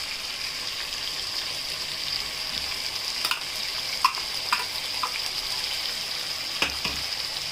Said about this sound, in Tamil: இதுவும் இந்த மசாலாவோட பச்சை ஸ்மெல் போகிற வரைக்கும் நல்லா ஃப்ரை பண்ணி வச்சுக்கணும்.